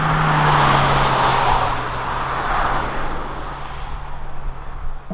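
A 2021 Hyundai Tucson 1.6 turbo with a 7-speed dual-clutch transmission drives in third gear, its engine and road noise a loud, steady drone that eases slightly toward the end, with no talking.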